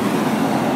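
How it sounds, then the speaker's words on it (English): A big truck passes close by on a road, a loud, steady low roar of engine and tyres filling the whole moment. "That was a big truck."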